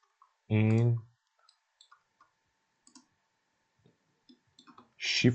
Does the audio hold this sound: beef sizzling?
no